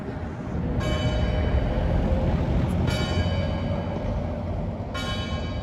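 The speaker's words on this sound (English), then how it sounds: "They're welcoming you with the bells." Bells of an 18th-century church dating from 1783 strike three times, about two seconds apart, each ringing out over a loud, steady outdoor background.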